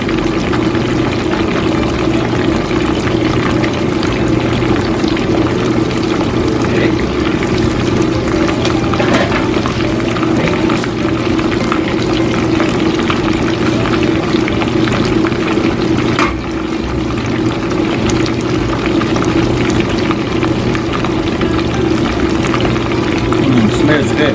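Chicken karaage deep frying in hot oil, a loud, dense, continuous bubbling crackle that holds steady for the whole stretch with no break.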